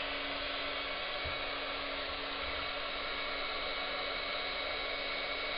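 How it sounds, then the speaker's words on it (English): A heat tool blows hot air steadily for papercraft, warming a foamiran leaf wrapped around a skewer for a wedding card flower, a constant loud whooshing hum with a faint tonal whine throughout and no talking. "Turn on my heat tool."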